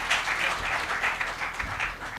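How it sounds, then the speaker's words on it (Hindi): Steady audience applause for a poet at a Haryanvi comedy poetry gathering, a dense even wash of many hands clapping without a break. "कवि भले लोकल है पर तालियां इंटरनेशनल लेवल की बजनी चाहिए"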